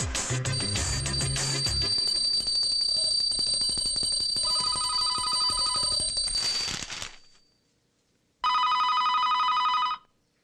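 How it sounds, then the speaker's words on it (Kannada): A telephone rings with bright electronic bell tones in repeated bursts, loud and close, with a pause before the final burst and no voices over it. "ಫೋನ್ ರಿಂಗ್ ಆಗ್ತಾ ಇದ್ರು ಸುಮ್ನೆ ಕೂತಿದೀಯಾ"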